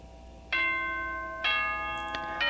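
A two-tone ding-dong announcement chime from the video game Danganronpa 2 rings clearly, bright bell tones struck in sequence with sustained ringing, the second note followed by a quick extra strike.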